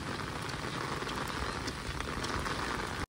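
Heavy rain pours down in a dense, steady hiss of drops striking the ground and nearby surfaces. The sound stays loud and unbroken, with no voices, until it cuts off abruptly at the very end.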